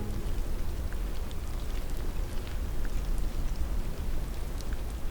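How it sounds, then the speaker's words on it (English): Redwood needles dropping onto a forest floor make a soft, constant rain-like patter with faint delicate ticks and plops, picked up by very quiet microphones in an almost silent redwood grove. "these redwood needles are falling to the ground, and these mics are so quiet that you basically hear this redwood needle rain, delicate ticking,"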